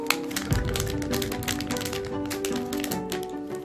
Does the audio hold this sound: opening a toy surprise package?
yes